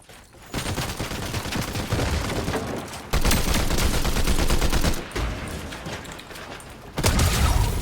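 Video game gunfire: loud, close bursts of rapid automatic fire pound away in several sustained volleys, separated by brief pauses, with no talking over them.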